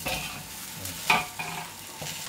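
Raw prawns tossed into golden-fried Nestum cereal in a hot wok give a brief burst of sizzling and stirring, a few sharp scrapes amid steady frying crackle.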